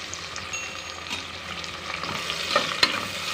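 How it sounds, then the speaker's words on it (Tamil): Green chilies, red chilies and curry leaves frying in a pan for vegetable biryani, a close sizzling hiss with scraping stirring strokes that grow busier toward the end. "நல்லா கலந்து விட்டுக்கலாம்."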